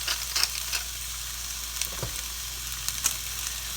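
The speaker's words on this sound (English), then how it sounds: "I'm just going to soften these a little bit and cook some of the water out of the mushrooms" Mushrooms sauté in a pan with other vegetables, lightly seasoned with kosher salt and pepper, making a steady, soft sizzle broken by a few small pops and crackles.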